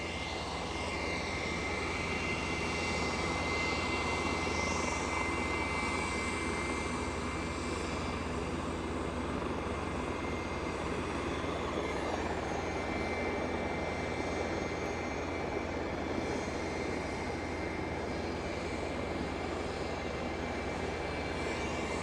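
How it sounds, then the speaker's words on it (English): A German-registered Embraer Praetor 600 business jet at Aberdeen airport gives a steady, broad engine roar with a faint high whine, holding loud and even throughout with no voices. "So, according to the picture I'm looking at, an Embraer Praetor 600."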